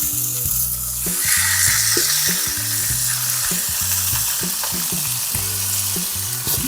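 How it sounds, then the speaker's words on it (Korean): Loud, continuous sizzle of pork shoulder stir-frying in an oiled pan, a dense crackling hiss that holds steady throughout over background music, with no talking. "네, 이제 바로 볶아 보겠습니다"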